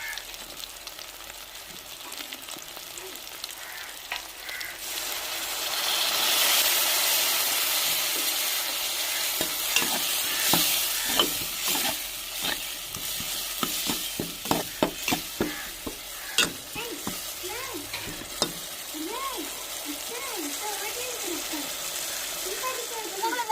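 Fried onion, tomato and green chili are stirred with turmeric, chili powder and curry masala in a pan for a fish curry, a steady sizzle with scraping strokes that quicken midway, while a voice talks over it.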